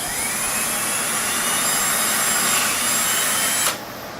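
A power drill bores a series of holes in wood while a circle-cutting jig is being built. A loud, continuous high-speed whir runs close by, then cuts off abruptly near the end.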